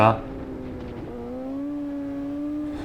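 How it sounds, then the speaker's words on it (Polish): A Suzuki GSX-R 750 sport motorcycle whines past, its pitch rising steadily as it accelerates, loud and fairly close, with a sharp noise at the very start. "O, jaki stunter, słuchajcie, jedzie. Gix 750."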